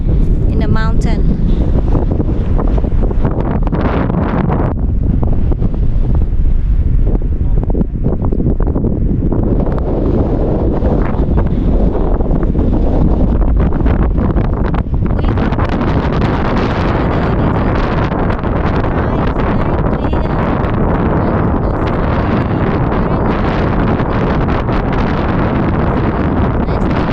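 Strong, cold wind high in the Ecuador mountains roars steadily and buffets the microphone in constant gusts throughout, with no break.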